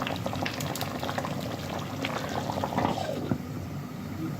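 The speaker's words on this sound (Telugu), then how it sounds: "సిమ్ములో 5 నిమిషాలు ఉడకనిద్దాం." Mutton and potato curry bubbling steadily in a pot on a stove at low heat, a dense continuous simmer with scattered pops and small bursts from close by, no talking.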